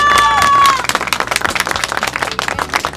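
Lively clapping and cheering from a crowd at an İyi Party campaign event in Istanbul, opening with a brief high whistle-like tone, then brisk, uneven claps close by.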